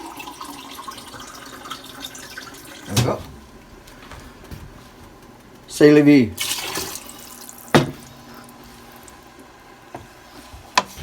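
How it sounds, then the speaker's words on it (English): Water from a kitchen tap pours into a glass in a home kitchen where meatballs in tomato sauce are being made: short splashing bursts of flow and a clink, with someone speaking briefly between them. "1 glass of water coming up."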